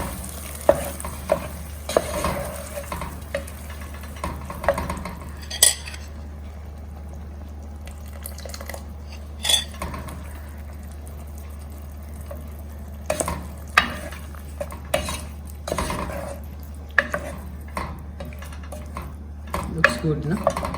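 A spoon stirs aloo posto, a Bengali potato and poppy-seed dish, frying in a pan. Irregular scrapes and clinks ride over a steady low hum and faint sizzle, close and fairly loud.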